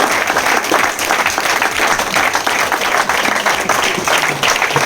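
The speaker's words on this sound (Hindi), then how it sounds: "जोरदार तालियों से माननीय मंडल प्रमुख महोदय स्वागत करें" Audience at a welcome event in Sadar Bazaar, Delhi, applauding the newly arrived zonal chief, with loud, steady, dense clapping from many hands sustained throughout without letting up.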